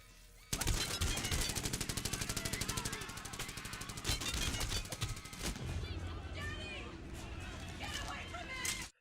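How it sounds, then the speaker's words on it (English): Rapid automatic gunfire bursts loudly through a Terminator 3 fight scene, with people running and voices mixed in. After a few seconds the shooting gives way to scattered shots and movement. "Arnie, John, and Kate run as well, shooting the TX"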